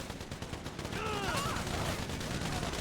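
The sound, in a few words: gunfire in video game GTA 5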